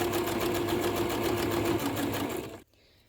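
A sewing machine stitches D-ring strips for a Yeti bottle holder, whirring steadily and close for over two seconds before stopping abruptly into near silence.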